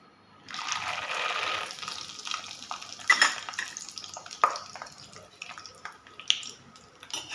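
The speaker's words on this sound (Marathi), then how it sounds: "आता आपण शेंगदाणे तळून घेऊ" Peanuts frying in hot oil for poha chivda give a steady, close bubbling hiss that starts after a brief quiet moment, with scattered sharp clicks and taps from a utensil against the pan.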